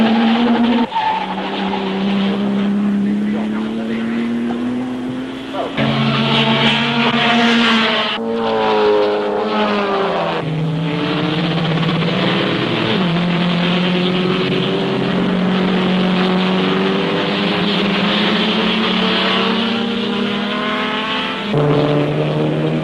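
Two Ferrari sports racing cars pull away from the pack in a 1971 race, their engines loud and close, rising and falling in pitch through the gears as they scream past.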